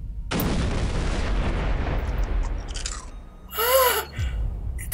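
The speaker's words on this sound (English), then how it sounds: "They're still exploding." Explosions in the sandbox video game Garry's Mod boom loudly and continuously, with rumbling blasts and a sharp burst near the end.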